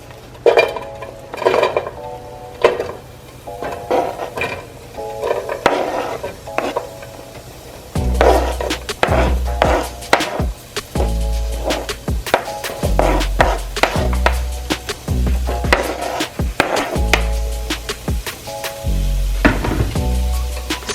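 Oil, onion, thyme, green onion and tomato sautéing in a pan for Jamaican callaloo, with repeated loud utensil clanks and scrapes against the pan over a steady sizzle.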